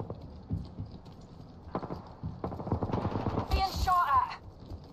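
Rapid bursts of automatic gunfire in a video game shooter ring out in the second half, crackling under excited talk from a player, with earlier lighter clicks and thuds.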